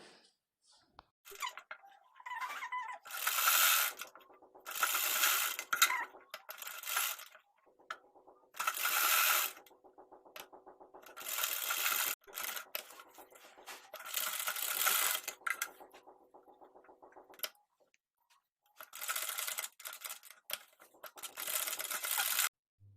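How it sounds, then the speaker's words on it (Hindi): Sewing machine stitching a blouse collar, running in repeated bursts of rapid mechanical clatter separated by short pauses, close and clear with no talking. "इसको इस तरह से सिलाई लगा देंगे दोनों साइड"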